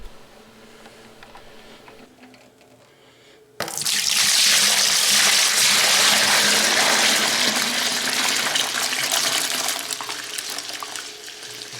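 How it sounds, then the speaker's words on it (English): A fermented Yoo-hoo sugar wash pours into a fermenter in a loud, steady gushing rush of liquid that starts abruptly after a quiet moment and continues throughout, easing slightly toward the end. "Let's turn this off and let's get it poured over to the fermenter."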